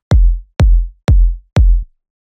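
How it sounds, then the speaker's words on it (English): Punchy melodic techno kick drum from the Astral pack, four deep booming hits evenly spaced about half a second apart, loud and close with nothing else playing. "So we have a really punchy kick, which is from the Astral pack"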